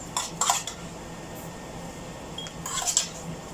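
Katmon fruit pieces being dropped into a glass jar while making vinegar, giving a few light clinking knocks against the glass at close range.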